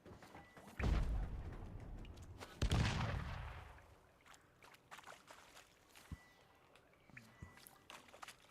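In The Witcher 3: Wild Hunt, two heavy blasts erupt about two seconds apart, the second a deep rumbling boom that rolls off slowly into faint debris and ambient game sound, with no voices.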